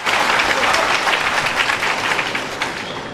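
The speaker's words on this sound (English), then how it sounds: "the crowd erupted in cheers" A snooker arena crowd claps and cheers after a successful escape shot in a match involving Ding Junhui, dense, lively applause that gradually eases toward the end.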